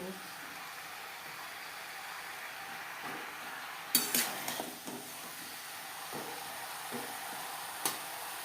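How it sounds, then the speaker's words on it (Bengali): A metal spoon stirs bottle gourd and rohu fish curry in a pan on a gas stove, a faint soft scraping with a few sharper clinks against the pan near the middle and end. "হাই টু মিডিয়াম ফ্লেমে 3-4 মিনিট নাড়াচাড়া করে নেব।"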